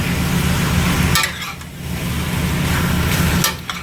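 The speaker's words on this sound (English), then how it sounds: "Now we're just browning the meat right now, searing it." Beef browns in a hot pot for a Cajun beef stew, giving a loud continuous sizzle with occasional scraping stirs and utensil clinks.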